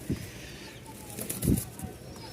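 A pair of pigeons, a male and a female, give a few low coos with faint rustling movement, close but quiet, while a voice speaks softly in the background.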